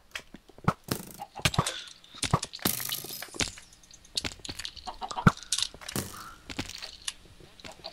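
Chickens clucking in the video game Minecraft, modded multiplayer play, with scattered clucks among sharp clicks and cracking game effects, fairly close and busy, with no talking.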